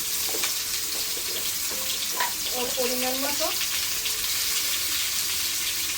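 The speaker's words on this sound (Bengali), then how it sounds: "আলুগুলো ভাজার জন্য দিয়ে দেব পরিমাণ মতো হলুদ" Potatoes with turmeric hiss in hot oil, a loud, steady broadband sizzle throughout, while someone briefly talks over it.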